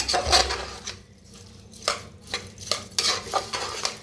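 A spoon stirring salt into cauliflower in a pot, giving a series of sharp metallic scrapes and clinks in irregular bursts with quiet gaps between, close and fairly loud, no talking.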